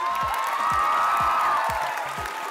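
A studio audience at the Vietnamese TV show Bước Nhảy Ngàn Cân 2016 applauds and cheers as 12 contestants are welcomed, a loud, dense burst of clapping with whoops over a steady thumping bass beat.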